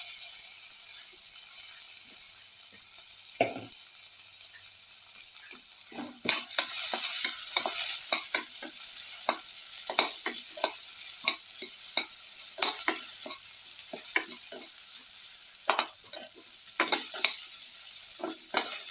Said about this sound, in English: Now put in the tomato pieces.